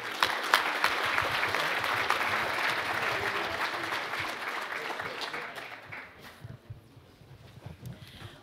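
An audience at a panel discussion on guardians and nationhood claps loudly and steadily for several seconds before the applause thins out and fades toward the end.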